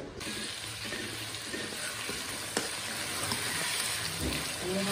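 Food frying in a kadhai, a steady close sizzle with light stirring scrapes and an occasional clink of the spoon against the pan throughout.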